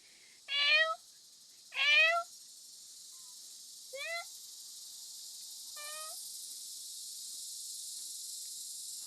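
A cat meows four times, the first two loud and close, the later ones softer, over a steady high hiss of insects.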